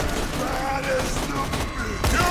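Fire-element gunfire in Borderlands 2, with bursts of shots and thuds under a layer of game noise, moderately loud, with a voice speaking partway through.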